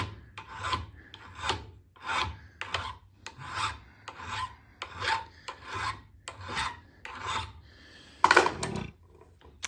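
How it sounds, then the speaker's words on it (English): A fine single-cut flat file is drawn across a block in a steady rhythm of about a dozen rasping strokes, each a short scraping push with brief gaps, close and fairly quiet. "I used a fine single cut flat file to do it."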